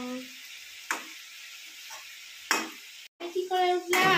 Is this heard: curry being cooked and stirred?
yes